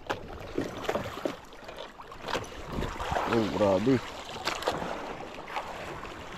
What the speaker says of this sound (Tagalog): Ang laki ng alon ah.